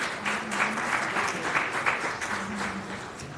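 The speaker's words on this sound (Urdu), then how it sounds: "ان کے لیے بھرپور تالی لگائیں" Audience applause at a Pakistani government ceremony honoring an Olympic athlete, steady sustained clapping from a crowd at moderate volume, with no talking over it.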